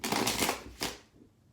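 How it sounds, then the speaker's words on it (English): A brief riffling flutter of cards being shuffled close up, two quick bursts that fade away. "Alright, two more shuffles."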